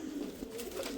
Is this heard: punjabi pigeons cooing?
yes